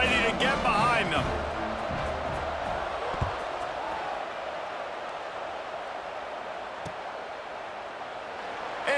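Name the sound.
crowd in stadium, EA Sports College Football 26 video game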